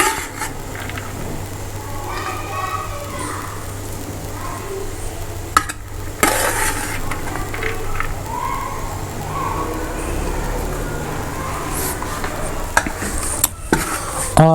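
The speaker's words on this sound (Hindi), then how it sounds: "अब हम इसको चम्मच के मदद से अच्छी तरीके से मिक्स करेंगे ताकि चावलों को जो हमारा रंग है वो अच्छी तरीके से लग जाएं" A spoon scrapes and clinks against a pot as boiled rice is mixed with food colouring for sweet zarda, steady stirring with a few sharper knocks and a low background hum.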